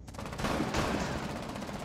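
Rapid gunfire from a first-person shooter video game, a dense continuous volley of shots filling the short clip at steady loudness with no talk over it.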